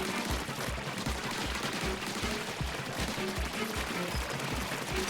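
Weapon explosions and rapid gunfire-like bursts from the video game Splatoon Raiders repeat in a steady rhythmic pattern of low thumps under a dense, busy game soundscape, fairly quiet overall.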